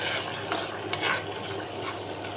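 Spice masala frying in oil for a rohu fish curry with taro and eggplant, a steady low sizzle with a few quick utensil clinks and scrapes against the pan, no talking.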